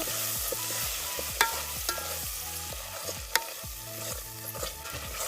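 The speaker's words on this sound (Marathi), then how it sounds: "वाटण टाकू वाटण थोडस परतून घेऊ" A steady sizzle of spice paste frying in a pan over a wood-fired stove, with a utensil repeatedly stirring and scraping in a rhythmic pattern, close and without voices.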